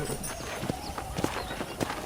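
Horse hooves clip-clop at a steady trot while riding across a ranch in the Red Dead Redemption game, a regular train of sharp, fairly close knocks over a low ambient bed.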